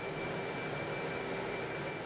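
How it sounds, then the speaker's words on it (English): Two fighter jets of the Swiss air force fly close alongside an airliner, a steady broadband jet roar with a faint whine, continuous and fairly distant, with no voices. "Two fighter jets approach the plane."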